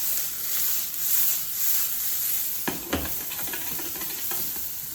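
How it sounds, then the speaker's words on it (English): Peppers and corn sautéing in a pan, with a continuous close hiss of frying broken by a few sharp stirring scrapes and knocks in the later half. "So the corn and peppers are fully sauteed."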